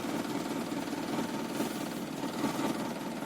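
A Lada Niva car engine pulls away, a steady mid-pitched throbbing drone with a low rumble, close and continuous, with no speech.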